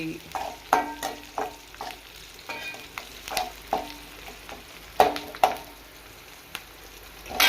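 Onion cooking in a pan for a pumpkin stir-fry, a low steady sizzle broken by repeated scraping stirs of a spoon, about a dozen sharp strokes at an uneven pace, close and fairly quiet.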